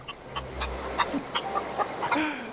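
A chicken clucks in The Outer Worlds, a run of short, rhythmic clucks near at hand over low ambient game sound, with no talking.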